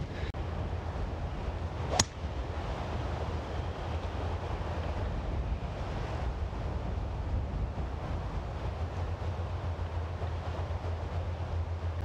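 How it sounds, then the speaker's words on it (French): Steady wind on a golf course roars and rumbles against the microphone throughout, with one brief sharp click near the start. "il y a quand même beaucoup de vent qui vient de la droite"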